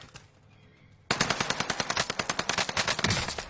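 After a near-silent moment, a video game automatic gun opens up and keeps firing, a rapid, evenly spaced run of loud, close shots.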